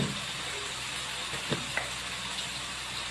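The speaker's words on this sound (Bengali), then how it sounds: "এখন আমি মশলাটাকে ভালো করে কষে নেব" Turmeric and salt sizzle steadily in a hot pan, a faint continuous fry broken by a couple of soft stirring knocks, with no voices.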